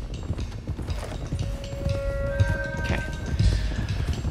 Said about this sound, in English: let's get these horses to Clemens Cove, quick